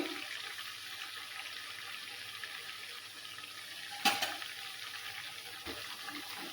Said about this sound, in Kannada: ಸಣ್ಣ ಉರಿ ಇಟ್ಟೆ ಕರಿಬೇಕ್ರಿ ಇದು.